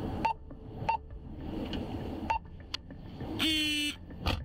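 Short electronic beeps sound at intervals over a low rumble on a police patrol radio channel, followed by a longer, brighter tone burst near the end.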